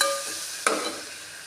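Green chilies and onions dropped into a hot pan of oil: a steady hiss of sizzling, then a sharp burst of fresh frying as more pieces hit the oil and settle.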